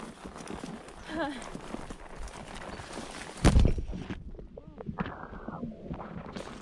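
Horses bolt during a ride in a forest, their hooves clip-clopping in a rhythmic patter. A loud thump comes near the middle, and voices are heard over the hoofbeats.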